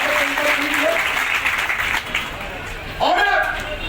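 Loud crowd applause welcoming a speaker at a protest meeting, sustained clapping with a voice speaking over it throughout.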